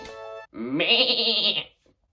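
A person imitates a sheep's bleat, giving one long wavering baa close to the microphone after a brief higher tone, and then falls silent.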